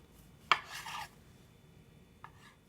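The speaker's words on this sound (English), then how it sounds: "Then you cut the dough." A sharp knife slices through soft bacon and cheese scroll dough with a quick, close rasping cut, followed by a fainter second stroke a moment later in an otherwise quiet kitchen.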